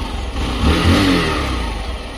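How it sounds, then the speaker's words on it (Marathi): A Xtec motorcycle engine starts up on a ride toward a temple and revs up steadily, loud and close for a couple of seconds, with no talking. "आणि झाली आपली एक्सटेक चालू"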